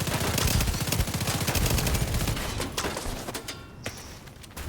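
Rapid rifle fire from the CTAR Railsplitter in The Division 2, a dense run of sharp shots in quick succession that keeps going loud, then eases slightly toward the end.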